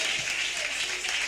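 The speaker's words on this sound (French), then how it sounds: "Donnez une main d'acclamation à notre Seigneur Jésus-Christ." A church congregation applauding the Lord Jesus Christ during a worship service, dense steady clapping filling the space without a break.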